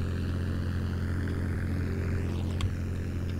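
A steady, droning airplane propeller engine in the Roblox game Plane Game hums continuously at an even pitch, a constant low rumble with no pauses.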